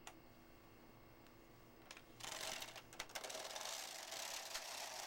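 A knitting machine carriage sliding across its bed, starting with faint mechanical clicks and then rising into a louder, steady ratcheting rasp that continues to the end.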